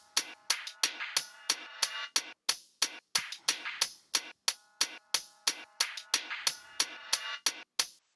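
A boom bap style drum beat with tight, swung hi-hats plays alone: crisp, sharp hits in a steady, lightly shuffled groove at moderate volume, with short decays between strikes.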